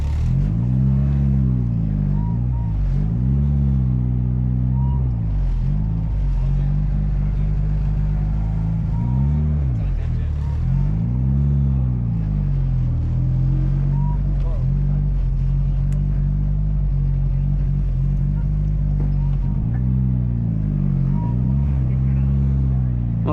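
A big-turbo Mitsubishi Evo idles and creeps while parking, its low rumbling exhaust droning steadily with repeated swells of revving throughout.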